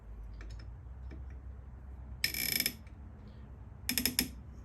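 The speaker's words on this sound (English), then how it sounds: "We're going to loosen that slightly." Small metallic clicks and a short ratcheting burst as a bolt on a Spot Hogg Fast Eddie bow sight is loosened and then tightened, two brief clustered bursts separated by quiet handling ticks, close up with no talk.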